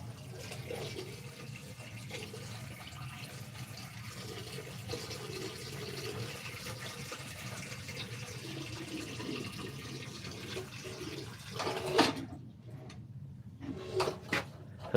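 Water drains steadily from cut hot and cold copper supply lines in a shop bathroom plumbing job, a continuous close trickle and gush that runs for most of the stretch, then breaks into a few sharper splashes and clunks near the end.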